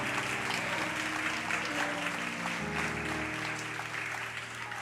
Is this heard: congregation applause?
yes